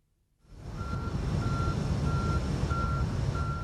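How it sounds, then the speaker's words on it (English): A sulfur delivery tanker truck reverses with a steady series of evenly spaced warning beeps over a constant diesel engine rumble, starting after a brief silence. "This tanker is delivering sulfur."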